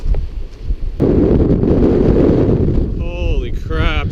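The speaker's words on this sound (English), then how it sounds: "It's a little windy." Wind buffeting a camera microphone on a mountain hike in the Dolly Sods area of West Virginia, a loud rumbling roar that starts after a quieter second, with a person talking near the end.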